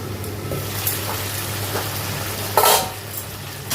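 Spice pastes of green chilli, mustard, ginger and cumin-coriander fry in a salted pan with a steady, close crackling sizzle, flaring into a louder hissing burst near the end.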